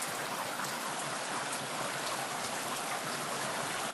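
Heavy rainfall pours down steadily as a loud, dense, continuous hiss of drops striking hard surfaces, with no voices and no pause for the whole stretch.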